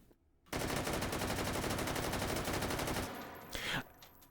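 Sustained full-auto bursts from an AK-12 prototype rifle in the VR shooter Hot Dogs, Horseshoes and Hand Grenades, loud and rapid, running about two and a half seconds, followed by a short second burst and mechanical handling noise.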